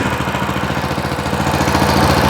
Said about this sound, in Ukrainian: шипоче двигун, шипоче мотоблок.